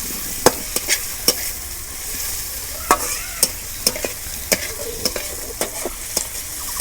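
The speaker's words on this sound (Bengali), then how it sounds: "এই দেখো পেঁয়াজের বেরেস্তা ভাজা নিতেছি" Chopped onions fry in white oil until brown for a home-style chicken biryani, with a steady close sizzle punctuated by a dozen or so sharp spatula strikes and scrapes at an uneven rhythm.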